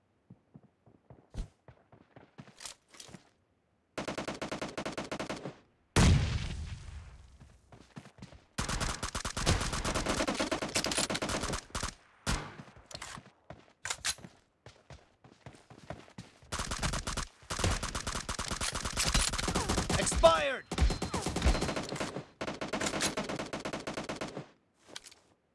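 Gunfire in the mobile battle game PUBG Mobile during a team deathmatch: loud bursts of automatic fire and single shots come in clusters separated by short quiet gaps, close and sharp, with no talk.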